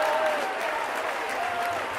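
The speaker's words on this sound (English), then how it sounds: "The Ponty crowd getting behind their boys now." Home rugby crowd at a Pontypridd versus Bristol match applauding and cheering a try, a dense, steady wash of clapping and crowd noise.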